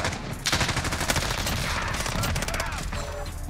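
Rapid automatic fire from the FiNN LMG in Modern Warfare, a dense sustained burst of gunshots filling the whole stretch, loud and close, layered with game noise and no clear talk.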